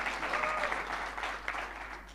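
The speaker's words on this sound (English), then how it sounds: "Can we give her again a big hand of applause?" Applause from a summit audience in a conference hall, a dense steady patter of many hands holding even for a couple of seconds with no voices over it.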